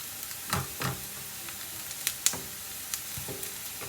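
Onions sizzle and fry in a pan for Anglo-Indian chicken curry, a steady close crackle broken by a few soft stirring scrapes and clinks.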